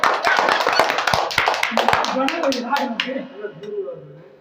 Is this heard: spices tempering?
no